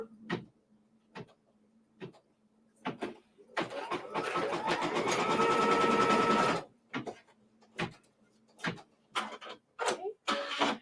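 A sewing machine tacks quilt block fabric down onto stabilizer in short stitching bursts with pauses between, then one longer continuous run of stitching, close and fairly quiet with no talk.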